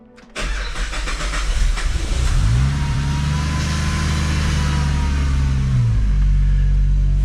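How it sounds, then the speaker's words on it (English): A Ford XR6T's engine cranks and catches almost at once, then settles into a loud, steady idle close by, with a deep rumble that holds to the end. "It's now time to start the car and do a test drive."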